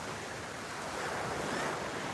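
Atlantic Ocean waves rolling onto Juno Beach, Florida, with wind buffeting the microphone, forming a soft, continuous roar of surf that swells slightly toward the end, with no voices.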